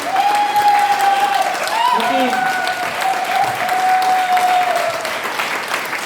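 Loud, continuous clapping fills the hall as a crowd welcomes leaders onto the stage in India, with a sustained tone, likely music or a voice, over the applause for most of its length.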